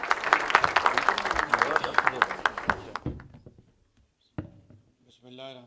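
A ceremony audience applauds to welcome Pakistan's Prime Minister Shehbaz Sharif. The dense clapping lasts about three seconds while a voice speaks over it, then stops suddenly, leaving near silence broken by a couple of brief sounds.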